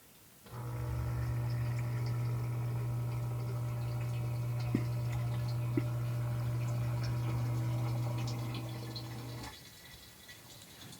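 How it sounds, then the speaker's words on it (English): An effluent pump switches on with water running, giving a steady low hum with layered tonal harmonics that lasts about nine seconds and then stops, plus a couple of faint clicks partway through and no talking. "So I'm going to turn on the water and then go back out."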